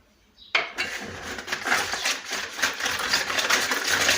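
A brioche dough mixture with egg is stirred briskly in a bowl, giving a continuous scraping, clinking rattle of utensil against the bowl that starts abruptly and keeps going close by.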